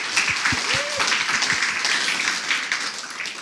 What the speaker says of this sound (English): clap for those who do case